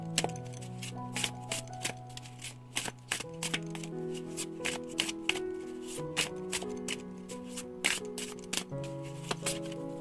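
Tarot cards being handled and shuffled, producing quick irregular snaps and clicks up close over soft background music.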